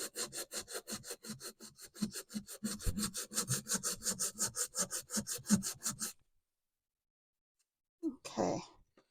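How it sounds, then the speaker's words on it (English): Sandpaper rubbed back and forth across the bottom of a cast eco-resin Halloween bat-on-headstone craft, a steady run of quick rasping strokes for about six seconds, then silence and one brief scrape. "I've got a bit of sandpaper. I'm just going to sand the bottom."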